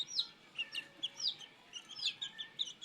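Malaysian Serama chickens, two with cut beaks, peck at food while giving soft, high chirpy clucks in quick irregular bursts, fairly close and fairly quiet, with no talking.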